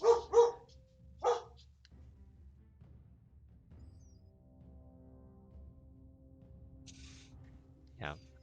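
A dog lets out two or three quick, close barks, then falls quiet under a low background hum before one more short bark at the end.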